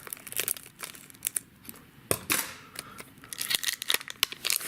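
Scissors snip across the top of a vintage Pokemon EX booster pack, crisp cuts mixed with crinkling foil wrapper, close and fairly quiet, in uneven bursts.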